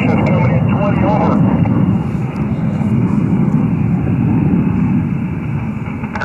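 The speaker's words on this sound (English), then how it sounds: "A jet just flew over me" A jet passes overhead in Northern California, a loud, steady broadband roar that holds for several seconds and slowly eases, with a faint radio-like voice under it.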